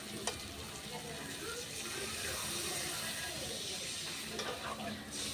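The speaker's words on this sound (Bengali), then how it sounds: "এবার আমি দিয়ে দেবো জল।" Water goes into a hot pan of spices fried in oil for a fish curry, giving a steady, loud, broad sizzling hiss with a few faint clicks throughout.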